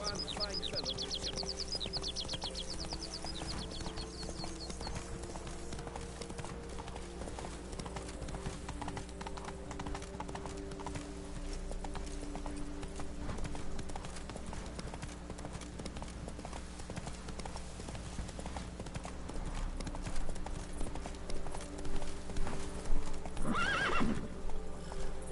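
Roach, the horse in The Witcher 3, gallops with a continuous clip-clop of hooves and whinnies now and then, and the hoofbeats grow louder and heavier toward the end. Someone speaks briefly over the riding.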